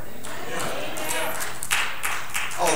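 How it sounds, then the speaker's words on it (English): Scattered handclaps from a few people in a church congregation during a sermon, sparse and uneven, with a voice speaking over the room. "thank three of you for clapping"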